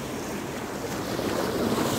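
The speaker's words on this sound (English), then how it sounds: "And that is because a boat just went by, the one I was showing you all, and the boat is pushing all this water close" Water churned up by a passing boat's wake rumbles and washes close by, a steady, loud surging roll mixed with wind buffeting the microphone.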